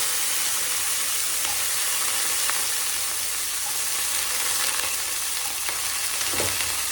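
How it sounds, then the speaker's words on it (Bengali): Diced potatoes fry in oil with nigella seeds, a dense, steady sizzle heard close by with occasional light scrapes of stirring and no voices. "তারপরে দিয়ে দিচ্ছি আলু।"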